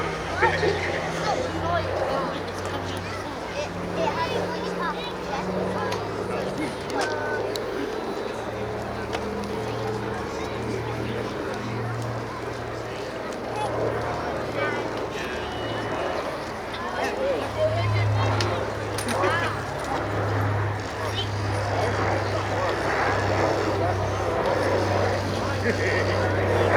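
A 1943 PBY Catalina flying boat lumbering down the runway at the Duxford airshow: a steady, throbbing piston propeller engine drone heard from a distance, continuous under a commentator's voice.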